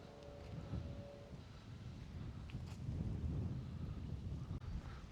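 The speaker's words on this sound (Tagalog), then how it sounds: "Ang lakas talaga ng hangin pag ganitong oras po" Low rumbling wind noise buffets the microphone steadily, quiet overall, with a brief tonal hum at the start.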